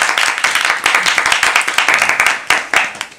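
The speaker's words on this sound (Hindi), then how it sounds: "इनके लिए जोरदार तालियां बजाइए।" An audience at a children's poetry gathering claps in a lively, rhythmic patter, with sharp, closely spaced individual claps standing out loud and near throughout.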